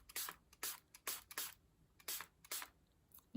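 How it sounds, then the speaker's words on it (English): A water spray bottle is pumped over water-soluble oil paint, giving a series of short, quiet hissing bursts at an irregular rhythm, close by, with no talk. "you can then use your water spray"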